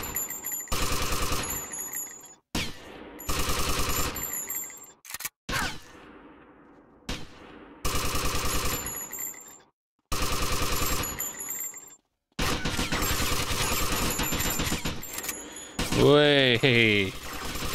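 Gunshots in a GTA Vice City shootout, loud broadband bursts of fire separated by short silent gaps, ending with a rising whistling sound.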